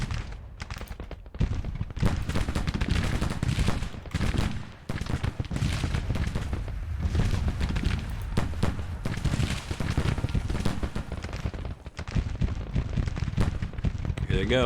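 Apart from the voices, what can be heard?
Civil War artillery and gunfire in video game Grand Tactician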